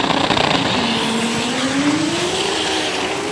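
Drag racing cars launch side by side down the strip, engines screaming loud and close with a rising pitch sweep as they accelerate away, tire noise mixed in, no talking.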